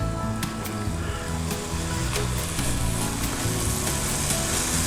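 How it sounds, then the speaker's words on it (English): Bacon sizzling in a hot pan, a steady loud crackling fry with a few sharper pops over a constant hiss, no voices. "Put our bacon in."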